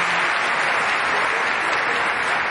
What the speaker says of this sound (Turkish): Arzu ediyorsanız alkışı alalım ona göre.